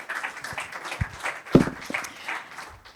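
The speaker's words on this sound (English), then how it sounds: "Round of applause as well for Mr. Forten." Audience applause at a conference panel on financing sustainable infrastructure, moderate clapping from a room of people with a few sharper, closer claps standing out.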